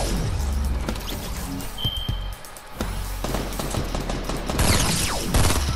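Rapid bursts of gunfire from a Fortnite Battle Royale match, dense overlapping shots and impacts that crackle loudly throughout and build into heavier volleys near the end.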